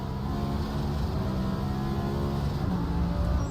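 GT race car engine at the Italian Grand Prix round of the GT World Challenge, a loud sustained roar holding steady with a dense low drone throughout, no voices.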